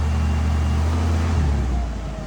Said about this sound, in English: Go ahead and give it some RPMs.